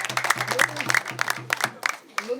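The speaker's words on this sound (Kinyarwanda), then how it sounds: "naho ni mwiha amashyi" A gathered crowd of villagers claps in a dense, steady patter of many hands at a rural community meeting, the applause close and lively before tapering off.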